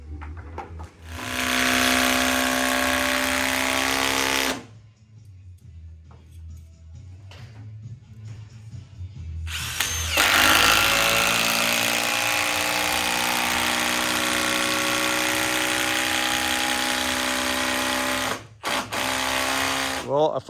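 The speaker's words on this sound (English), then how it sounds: "I'm going to start running the 12-inch long lag bolts down through these into the log" A power drill drives 12-inch lag bolts into a log, with two long, loud, steady motor whines separated by a quieter pause and a brief stop near the end.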